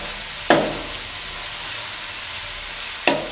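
Garlic and curry leaves fry in a pan with ginger, a steady soft sizzle running throughout, broken twice by brief louder bursts of hissing and scraping as the pan is stirred, close and without talk.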